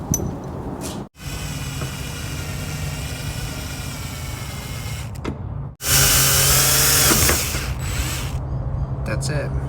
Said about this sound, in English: We just drilled a hole right here.